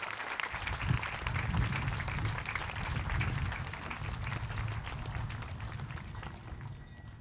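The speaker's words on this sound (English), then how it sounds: "Let's please give a round of applause to all veterans that served our country." An outdoor crowd at a hometown heroes banner dedication ceremony applauds veterans, a dense, steady clapping that holds for several seconds and then slowly fades.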